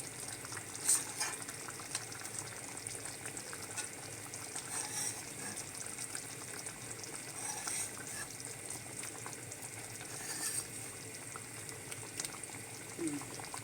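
Egg curry with broken eggs simmers under a lid in a pan, a soft, continuous bubbling and gentle crackle at low volume, close and steady with occasional small pops.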